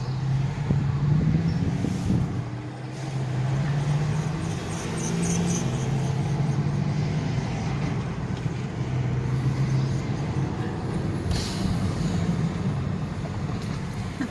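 Steady road traffic drones past around 3 o'clock with many cars, a continuous engine and tire rumble swelling and easing as vehicles pass, with occasional higher whooshes.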